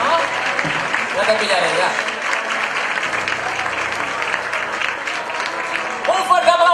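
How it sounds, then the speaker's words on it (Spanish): Church audience at a tribute to a parish choir claps steadily throughout, with voices calling out over the applause. "¡Un fuerte aplauso!"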